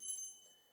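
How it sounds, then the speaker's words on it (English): At a council meeting, a speaker's warning bell gives a single short, bright ding that rings briefly and fades away. "you'll hear a warning bell that sounds like this."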